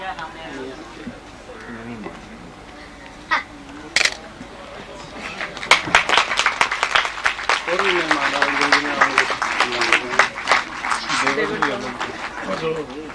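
Seminar audience at a Women Rights Day event in Khanewal City breaking into applause, a dense rising burst of clapping that builds and sustains, following someone speaking over a public address.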